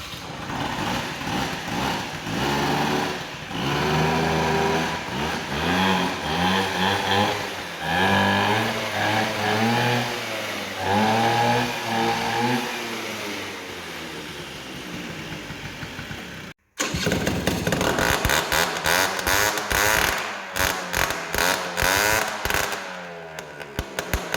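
A Honda Vision scooter engine revs through a novelty exhaust with a welded cap, a buzzy high-pitched single rising and falling in repeated throttle blips, briefly cutting out before idling roughly again up close.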